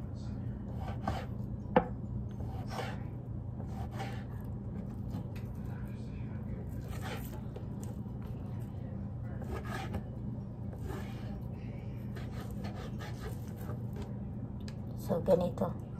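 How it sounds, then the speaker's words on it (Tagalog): A knife slices chicken breast thinly on a cutting board, producing soft, repeated taps and cuts at an irregular pace under a low steady hum, with a person talking at times. "Hiwain natin ng manipis. Manipis na manipis."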